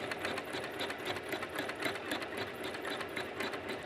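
A sewing machine runs steadily at speed, free-motion embroidering on denim jeans held in a hoop. It gives a continuous, close, rapid mechanical whirring and stitching chatter with no pauses.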